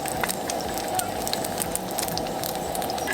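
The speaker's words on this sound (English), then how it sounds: "Saute the beef fat until it becomes crispy." Beef fat sautéing in a pan at a family camping cookout, a dense steady sizzle and crackle with scattered pops throughout, close and continuous.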